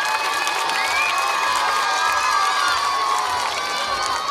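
An audience at a school annual day celebration fills the hall with loud, continuous cheering and clapping. Many excited voices, including children's shouts, rise over the applause.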